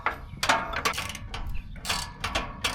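A ratchet wrench fitted with a swivel and extension clicks in bursts of rapid ratcheting while installing a lift kit under a K20 Squarebody Suburban, close and fairly loud with brief pauses between strokes.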